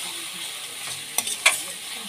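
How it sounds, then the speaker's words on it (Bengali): Ground spices with chilli powder and turmeric are stirred in a pan over low heat, giving a soft, faint sizzle broken by two quick scraping strokes of the spoon. "আঁচটা কমিয়ে দেবে আর আস্তে আস্তে করে মশলাগুলোকে কষাতে থাকবে"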